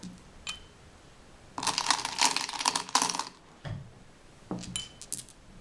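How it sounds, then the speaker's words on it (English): Small decorative stones sprinkled across a table, making a dense rattling patter in two close bursts, followed by a few lighter scattered clicks against a quiet background. "take these little stones that I buy at the 99-cent store or any dollar store and just sprinkle them around"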